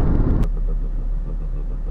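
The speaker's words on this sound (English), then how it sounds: "Your bike sounds funny today, Jeff." A motorbike engine rumbles steadily and low, close by, with a brief louder burst at the start.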